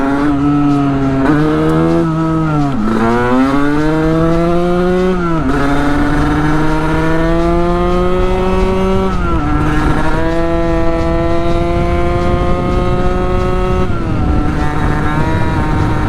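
A Sherco Supermoto 50 with a big bore AM6 engine and aftermarket pipe drones loudly while riding, its engine pitch rising and falling with gear changes and throttle, wind noise throughout, no speech.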